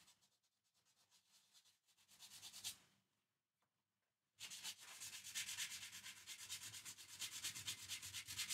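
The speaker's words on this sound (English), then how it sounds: "Scuffing that up, getting that fretboard nice and shiny to get that gunk off there" Rough rubbing as a guitar fretboard is scuffed to clear off gunk and glue, with short abrasive strokes, a near-silent pause, then steady louder rhythmic scrubbing close by, with no talking.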